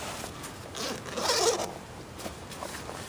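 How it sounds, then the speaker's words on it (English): Water-resistant zipper on an Eberlestock S34 backpack being pulled, a close raspy zipping that swells in the middle and trails off with shorter tugs, no voices. "you have water resistant zippers going all the way up the sides, nice big"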